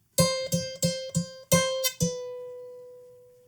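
A short guitar riff of quick plucked notes, several repeated, ending on one note that rings out and slowly fades; no voices.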